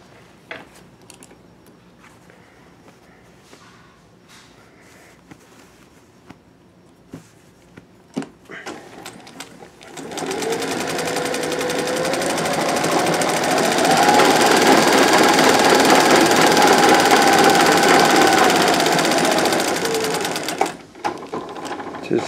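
A Singer 201 sewing machine driven by a Consew CSM1001 servo motor starts after quiet handling noises and runs steadily for about ten seconds, a smooth close whirring hum, then stops abruptly.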